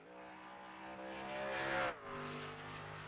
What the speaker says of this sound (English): Here is the John Deere truck of Tristan Callahan coming around for his first lap.